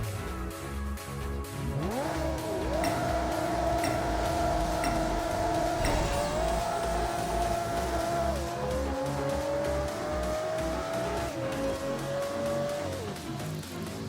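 A race car in the Apex Racer mobile game makes a quarter-mile run, its engine climbing in pitch through several gear shifts with a loud, steady drone over game music.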